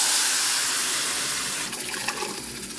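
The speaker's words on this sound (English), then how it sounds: "we're going to go ahead and just fill it up with water" Tap water runs steadily into a pot, a loud continuous rushing hiss that shifts to a more splashy, bubbling fill near the end.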